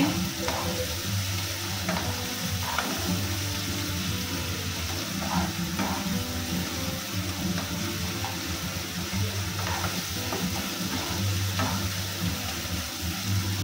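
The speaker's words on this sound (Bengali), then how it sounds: "এই যে চিংড়ি মাছটা ভাজা ভাজা করে নিচ্ছি।" Steady, loud sizzling of prawns frying in a hot pan, with occasional scraping stirs throughout.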